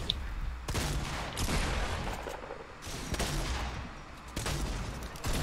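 Rapid, dense bursts of video game gunfire, loud and near. Several heavy volleys come in waves and keep going without pause, with no talking over them.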